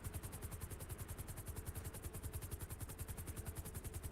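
A news helicopter flies overhead in a video game, its rotor beating in a fast, steady chopping rhythm with a constant engine drone throughout, fairly faint and with no talking.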